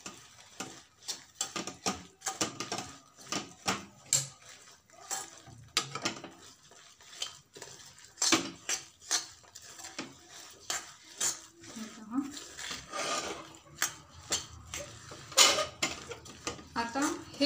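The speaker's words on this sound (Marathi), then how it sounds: "त्याच्यासोबत हे जे मी खोबरं भाजलं होतं ते देखील ॲड करून घेते. व्यवस्थित चांगलं मिक्स करूया." A spoon stirs roasted coconut into a sesame ladoo mixture in a pan, giving repeated scraping and clinking strikes against the metal in an irregular rhythm, close up, with a faint sizzle underneath.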